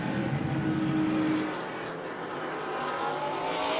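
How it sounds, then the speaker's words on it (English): Race cars rolling down the main straight behind a Maserati safety car, engines droning steadily and fairly close, with a brief tire-squeal-like tone early on before the sound eases slightly. "So here they come back on the main straight again, led by the Maserati safety car"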